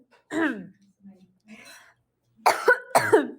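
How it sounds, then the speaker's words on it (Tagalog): A woman coughs in several sharp bursts during a live makeup session, a single cough followed by a pause, then a quick pair of harsh coughs, close and clear. "ubo lang po ako"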